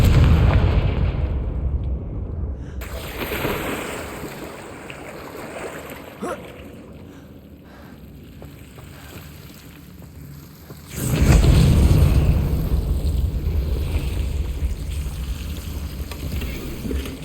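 Blasting-spell explosions in the video game Hogwarts Legacy: a loud rumbling burst opens, a quieter stretch with a sharp crack follows, then a second heavy booming blast rolls on with a long rumble.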